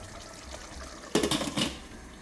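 A 200 ml glass of water poured into an okra ragout in a pot, a short splashing gush that rises suddenly and fades after about a second, close and with no talking.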